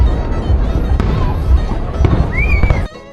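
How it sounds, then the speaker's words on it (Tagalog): New Year's fireworks burst loudly and close, with sharp cracks and booms over a continuous roar of crackling and a rising whistle near the end. "Hinintay lang talaga namin na matapos tong fireworks for 15 minutes"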